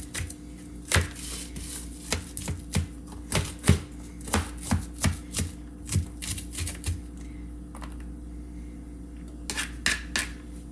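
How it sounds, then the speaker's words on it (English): A knife dices food on a cutting board while making pasta sauce: about a dozen quick, close, crisp chops in an uneven rhythm, a few seconds of pause, then a couple more taps near the end. "I'm not dicing it too much because I like it"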